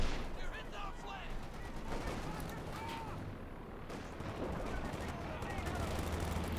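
Rattling .50 cal machine gun fire from Company of Heroes 2 runs through a dense wartime battle mix, with other gunfire and explosions layered in and a voice talking over it throughout.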